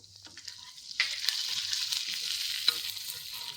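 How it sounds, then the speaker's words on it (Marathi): Urad dal, chana dal, cumin and curry leaves sauté in a tempering in a pan. Quiet at first, then a sudden loud sizzle starts and keeps crackling, with a sharp spoon scrape near the end. "हे छान परतून घ्यायचं"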